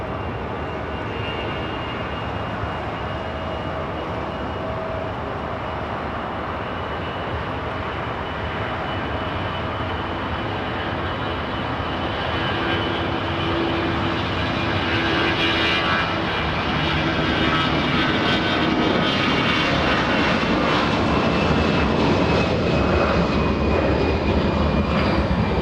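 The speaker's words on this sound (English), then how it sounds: "every single time we see the little A319, the takeoffs have sounded incredible." Airbus A319 jet taking off at LAX, a loud, steady engine roar that builds gradually and swells toward the end, heard alone without talk.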